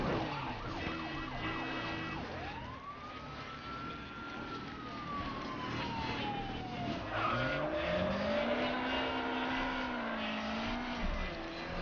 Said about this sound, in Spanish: Joder, cuánto coche de poli